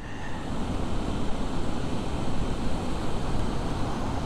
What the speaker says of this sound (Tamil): எம்மாடி காட்டாற்று வெள்ளங்க, வெள்ளை கலரில் அடித்து கலர்ப்பி வருது பாருங்க